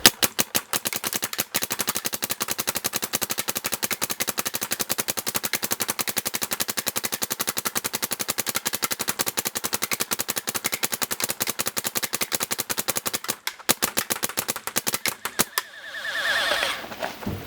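A WGP MG7 airsoft gun fires in a long, rapid, evenly spaced stream of sharp cracks at close range, with a brief pause near the end before the firing stops and a rustling follows.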